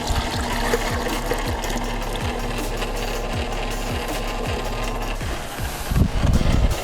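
An ice cream mixer whirs steadily with a regular ticking rotation while liquid ice cream base is poured in, a continuous pouring wash building louder toward the end.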